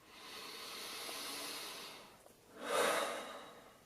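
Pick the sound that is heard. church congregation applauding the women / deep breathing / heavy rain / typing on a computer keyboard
deep breathing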